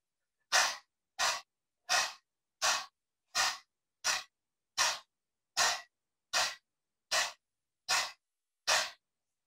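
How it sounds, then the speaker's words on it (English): Dog breathing from a yoga practice, a person exhaling forcefully through the open mouth with tongue out, twelve sharp, evenly spaced breathy bursts close up with silence between each. "So that is called dog breathing."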